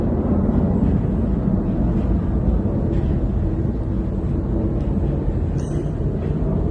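Near the beach, an airplane flies overhead, its broad, steady, loud droning roar holding for several seconds with a few faint higher ticks and no voices.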